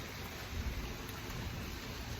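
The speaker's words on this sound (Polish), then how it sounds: "Deszczyk pięknie pada, super cudownie." Faint, steady rain falls outdoors in the early morning as a soft, even hiss with no voices.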